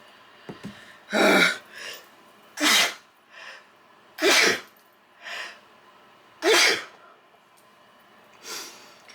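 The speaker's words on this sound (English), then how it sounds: "I'm gonna sneeze." A series of loud, sharp sneezes and snorting bursts, about five strong ones spaced a second or two apart, with smaller sniffs and breaths between.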